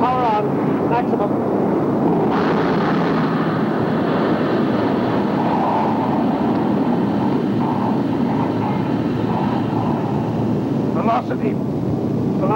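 A spaceship's speed jet engine from a 1953 science-fiction television drama roars at maximum power, a loud, continuous broadband rush with wind-like texture that holds steady for about twelve seconds.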